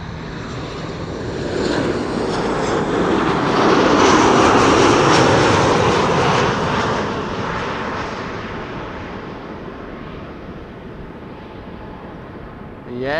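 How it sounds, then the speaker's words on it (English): KLM Boeing 737-800 arriving at Amsterdam Schiphol, its jet engine roar swelling to a loud peak as it passes close and then slowly fading away, with some talk underneath. "this is KLM flight 1354 arriving from Prague in the Czech Republic, a 737-800"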